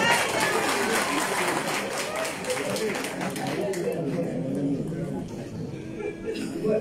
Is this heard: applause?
yes